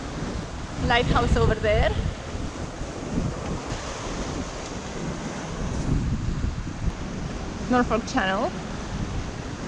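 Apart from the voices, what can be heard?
strong wind and waves while sailing at sea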